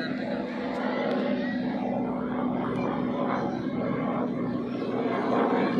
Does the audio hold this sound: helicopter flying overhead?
yes